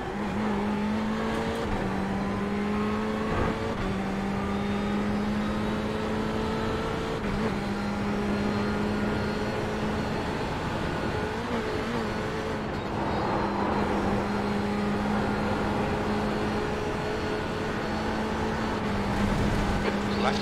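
Ferrari 488 GTE race car engine in iRacing on the Nordschleife, a steady droning tone holding loud and close throughout, with slight pitch shifts as gears and revs change, and other cars audible around it.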